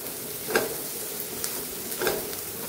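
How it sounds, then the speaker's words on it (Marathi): Ginger, garlic and onion frying in a pan for a moong dal and bottle gourd dish, a steady close sizzle with two louder stirring scrapes. "आता आलं लसूण आणि कांदा छान आपण सोनेरी रंगावरती परतून घेऊया"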